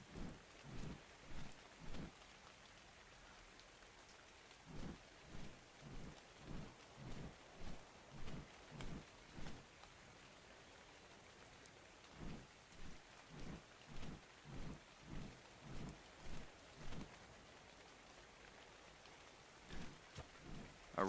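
Rain in the survival game ARK: Survival Evolved: a steady wash of rainfall broken by a long series of regular, soft thumping pulses. No voices.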